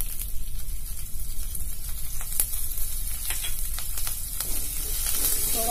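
Garlic and green chili hit a pan of roasted cumin for a sweet tomato chutney, producing a loud, continuous sizzle broken by occasional sharp stirring clicks and crackles.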